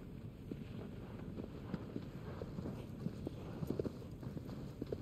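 Horse hooves galloping in the video game Shadow of the Colossus: a quiet, quick, steady patter of hoofbeats over a soft wind-like rush.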